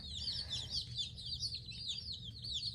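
Young ducklings and chicks, among them a Welsh Harlequin duckling and a French Black Copper Marans chick, keep up a dense chorus of high, rapid peeping, close and continuous.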